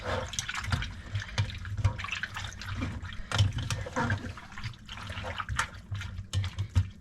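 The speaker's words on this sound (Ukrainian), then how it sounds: "Ще доляли трошки оциту, щоб закрило." Vinegar poured over fish in a container gives a soft, continuous liquid splashing and trickling, close by and fairly quiet.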